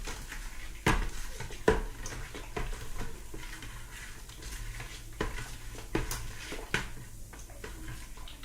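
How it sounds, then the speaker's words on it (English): Yeast being stirred into rhubarb wine in a container, with scraping swirls and several sharp clinks of a spoon against the vessel, close and steady with no talk. "Stir that in nicely."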